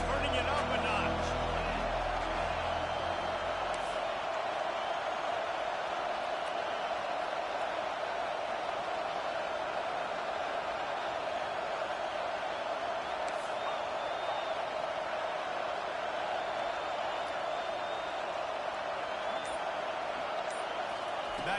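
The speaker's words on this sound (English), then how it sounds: "this crowd is turning it up a notch" A packed football stadium crowd roaring steadily before a second-down play, a dense, continuous wall of cheering that swells and holds for the whole stretch, with a commentator's voice over it.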